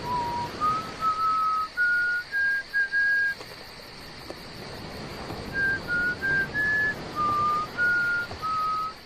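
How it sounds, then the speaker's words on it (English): Someone whistles the melody of "O Tannenbaum" in clear sustained notes, two phrases separated by a pause, set against a faint steady background hum at a beach cabana scene for a Corona Christmas ad. "begins to whistle "O Tannenbaum" or "O Christmas Tree," recorded of course in post-production"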